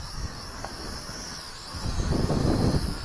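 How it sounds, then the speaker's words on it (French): Strong outdoor wind buffeting a microphone during a small drone flight, a steady rushing roar with gusts growing heavier toward the end. "Il y a vraiment beaucoup de vent aujourd'hui."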